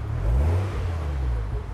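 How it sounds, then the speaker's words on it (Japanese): Car engine idling quietly, a low steady hum with a slight rise early on, smooth and close, with no talking over it. "エンジンは静かですね"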